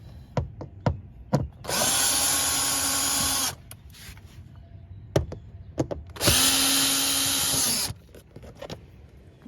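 Power drill backing screws out of a Toyota Camry door panel, two sustained whirring bursts of about two seconds each, close and loud, separated by clicks and handling knocks.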